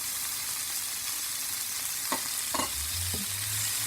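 Potatoes and green chillies sizzle steadily in a pan for a crepe filling, with a few spatula stirs and scrapes near the end. The sound is close and even, with no speech.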